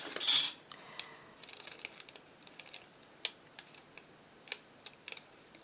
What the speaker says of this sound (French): Je vais utiliser des ciseaux plus petits.